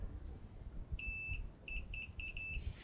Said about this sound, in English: Let's put it on continuity, so you can hear it.